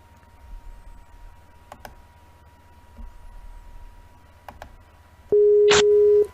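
Telephone busy signal during a call back, a steady tone after faint clicks and quiet background, sounding loud and close for about a second.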